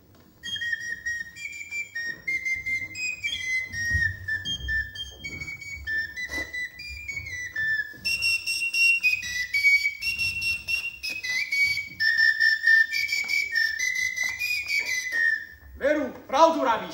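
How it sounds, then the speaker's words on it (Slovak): A person whistles a lively melodic tune, clear sustained notes gliding between pitches in quick phrases, with a short pause before a second, louder passage and a brief voice near the end. "Ja som pískal dobre."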